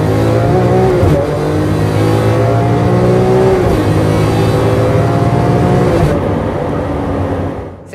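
A Lamborghini Aventador in Corsa mode revs hard and loud, engine pitch climbing and snapping back with abrupt gear changes, close and dominant with no talking.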